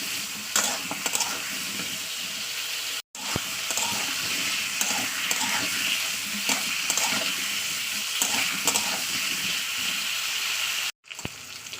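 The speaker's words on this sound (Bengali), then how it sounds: "আলুটাকে দেওয়ার পরে আমি দু থেকে তিন মিনিট একটু তেলের সঙ্গে ভাজা করে নেবো" Potatoes sizzling steadily in hot oil in a pan, a dense continuous frying hiss with small crackles and stirring scrapes, close and fairly loud, cut by two brief silent gaps.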